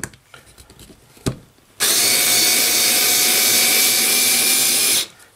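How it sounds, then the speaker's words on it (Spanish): A Xiaomi 3.6V LiPo cordless screwdriver backs a screw out of wood, a steady close motor whine lasting about three seconds after a few faint clicks and knocks, then stopping abruptly. "Y para extraer el tornillo"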